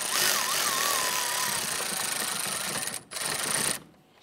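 A power driver whirs steadily while snugging screws into fog light brackets on a 2011-2019 Ford Explorer, with a dense, close mechanical buzz that briefly cuts out near the end, then stops.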